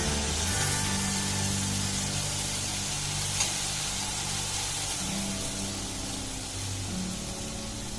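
Green chillies fry in hot oil, giving a steady, even sizzle that runs unbroken for several seconds, with a low hum beneath and no voices.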